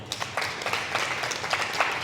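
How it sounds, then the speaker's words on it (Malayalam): Audience applause at a Christian preaching gathering, a steady wash of many hands clapping at moderate loudness with no voices over it. "നല്ല കൈയടി കൊടുത്ത മക്കളെ"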